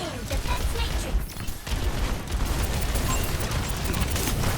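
Mercy's pistol with the D.Va skin firing rapidly in Overwatch 2, a steady stream of quick shots under busy game noise while a voice talks over it.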